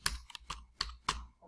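Quiet typing on a computer keyboard, a handful of soft, irregular key clicks close by, with no voices.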